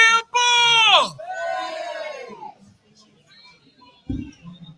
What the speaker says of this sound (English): Let's hear it from the crowd.